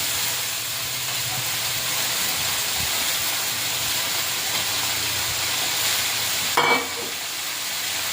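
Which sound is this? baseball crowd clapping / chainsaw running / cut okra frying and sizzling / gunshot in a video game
cut okra frying and sizzling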